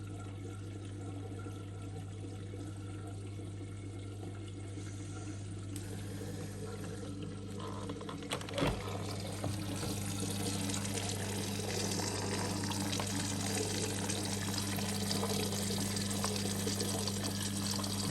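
A Miele W1 washing machine filling with water as the wash begins, a steady rushing flow with a low hum throughout and a brief thump partway, growing slightly louder toward the end.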